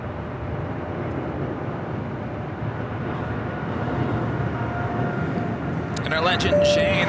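A Delta Airlines Airbus A321 arriving at LAX from Salt Lake City makes a steady, loud, broadband jet roar that swells slightly toward the end, where a thin whining tone appears.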